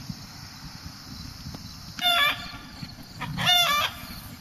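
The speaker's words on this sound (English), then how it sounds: "This is the new chicken flock" A farm flock of about 60 laying hens, with two loud bursts of crowing and squawking calls rising over a steady low background murmur of the flock.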